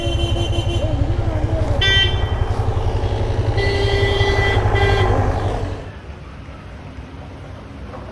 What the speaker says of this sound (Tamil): டேய் வண்டி வருதுடா